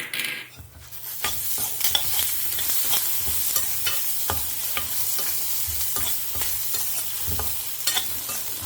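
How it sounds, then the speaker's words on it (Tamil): Lentils and chillies dry-roast with rock salt in a pan while being stirred, steady scraping strokes rattling the grains with a soft sizzle throughout, close and fairly loud. "அதுக்கப்புறமா கல் உப்பையும் சேர்த்து வறுத்துண்டுடலாம்"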